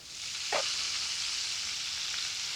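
Sweet and spicy beef noodles sizzle steadily in a hot pan while being stir-fried, a dense continuous hiss with a brief louder burst of frying near the start, no voices.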